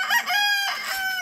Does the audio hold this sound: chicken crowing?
yes